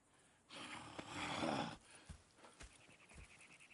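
Horses in the Red Dead Redemption 2 game, a soft snorting, breathy whinny swelling for about a second, followed by a few scattered quiet hoof thuds and movement sounds, all fairly faint.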